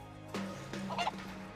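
A chicken in the video game Final Fantasy VII Rebirth gives a few quiet honking clucks in quick succession against a low steady background hum.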